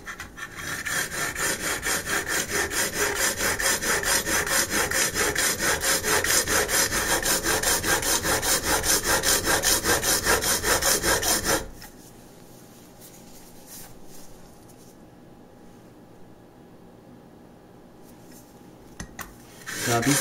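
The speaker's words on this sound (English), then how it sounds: "I'm going to do my primary bevel with this coarse stone, extra coarse stone actually" A scraper plane blade is pushed back and forth on an extra coarse diamond stone, a loud rhythmic gritty rasping of steel strokes for about eleven seconds before stopping to quiet handling noises.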